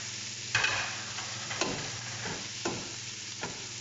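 Chicken hotdog frying in a pan, a soft steady sizzle broken by several sharp clinks and scrapes of stirring, close and with no talk.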